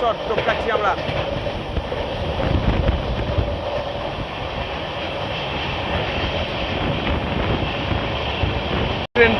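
The Howrah–Mumbai City Express passes close by near Uluberia station, a loud continuous rumble and rattle of rail cars that holds steady for nine seconds, with voices audible over it.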